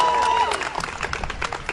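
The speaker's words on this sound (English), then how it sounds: "please give her a round of applause for coming on short notice" Audience clapping for a guest speaker, a Member of Parliament, with a brisk burst of applause and scattered cheers following a brief voice at the start.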